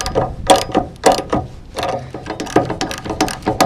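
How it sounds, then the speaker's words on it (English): A ratchet wrench tightens the lightbar mounting bolts on an FJ Cruiser, giving repeated quick clicking bursts in uneven strokes, close and fairly loud, with no talk. "let's see if we can't get these tightened in here. It's starting to tighten."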